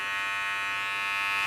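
A pet grooming vacuum clipper device switches on with a steady, loud, high-pitched electric whir that holds constant throughout.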